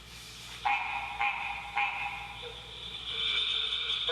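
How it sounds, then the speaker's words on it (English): Recorded green tree frog call: a few sharp, nasal honking notes spaced evenly near the start, followed by a longer, steadier run of calls, moderately loud against quiet background hiss. "Here's the green tree frog's call."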